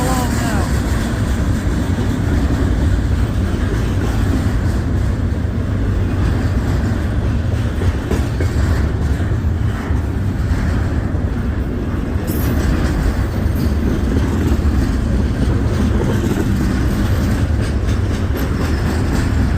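A freight train rolls past on the main line, a loud, continuous rumble with rhythmic clacking of wheels over rail joints, sustained for the whole stretch at close range.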